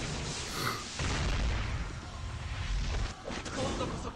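A summon animation in the 7DS Grand Cross mobile game sets off a deep rumbling boom that swells and sustains with a low roar, while a voice talks over it.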